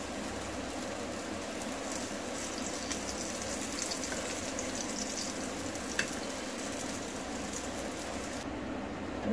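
Laccha paratha fries in ghee on a hot pan, a steady close sizzle that holds evenly throughout with faint crackles and no voices.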